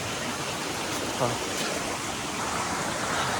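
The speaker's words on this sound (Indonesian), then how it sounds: "Akhirnya ada sungai lagi" A river stream flows continuously beside a trail-running route through swampy, muddy ground, a broad steady rush of water that stays loud and even throughout with only faint, brief voices over it.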